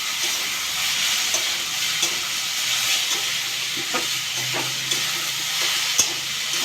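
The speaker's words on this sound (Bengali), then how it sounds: "এবার একটু নেড়ে দেবো।" Boiled dhenki shak greens frying in a pan, a soft continuous sizzle with scattered scraping clicks of a spatula stirring, close and moderately quiet, no talking.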